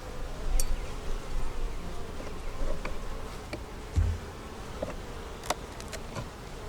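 Honey bees around an opened hive during an inspection, a steady close insect hum with faint clicks and scrapes of hive tools and frames, no talking.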